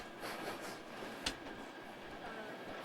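A train running on rails in Slovakia, a low steady rumble from inside the carriage with one sharp clack partway through, fairly faint and with no talk.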